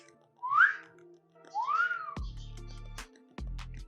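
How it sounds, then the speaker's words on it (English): A person whistles two short rising notes, close and clear, followed by a few low thumps and clicks. "can you whistle? Whistle."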